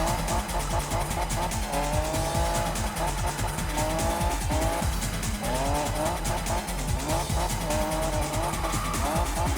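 A car in Need for Speed 2015 drifts with a steady roaring engine and repeated tire squeals, loud and continuous for the whole stretch, with engine revs rising and falling through the slides.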